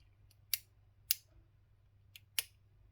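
Plastic speed-cube puzzle from a three-cube unboxing giving sharp, isolated clicks as it is adjusted, four crisp snaps spaced across the moment over a quiet low hum, close to the microphone.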